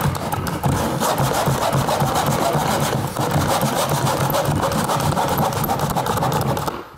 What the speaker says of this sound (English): You can cut right through the whole jamb, it doesn't really matter.